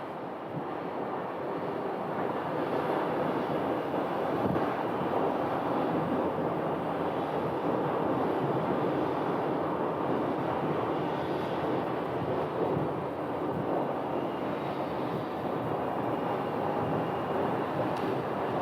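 An airliner on the runway at Phoenix Sky Harbor airport, heard from outside as a steady, distant engine roar mixed with wind noise, holding an even level throughout with no speech.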